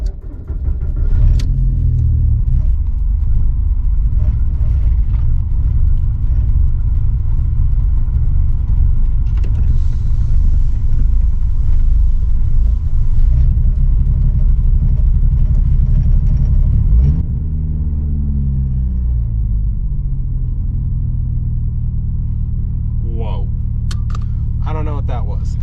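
A car with a failing Deatschwerks fuel pump drives along, its engine a steady loud low rumble for most of the stretch that drops off and eases lower near the end, with brief talk over it.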